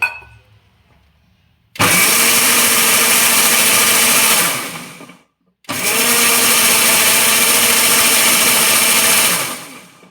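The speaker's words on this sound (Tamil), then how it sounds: "கொஞ்சம் தண்ணி ஊற்றி நல்லா நைஸாக அரைச்சி எடுத்துக்கலாம்." Two long, loud bursts of a kitchen mixer grinder blending peanut ice cream ingredients with a little added water, separated by a brief pause, each ending in a winding-down whir.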